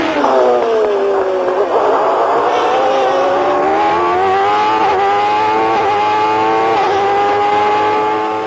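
A McLaren Formula 1 race car on a lap, its engine a loud, continuous high-pitched whine rising and falling through the gears, close and steady throughout.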